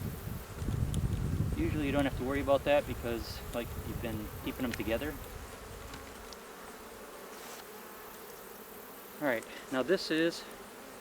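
Honey bees drone in a low, steady buzz during a frame-by-frame inspection of an open hive, close and continuous beneath a person talking nearby, the hum thinning out partway through.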